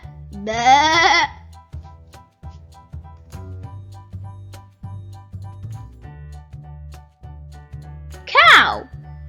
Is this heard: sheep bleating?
yes